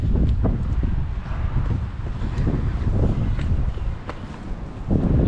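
Strong wind at sea beside a fishing boat blasts and buffets the microphone, with gusty roaring noise and occasional thumps, continuous and loud with no speech.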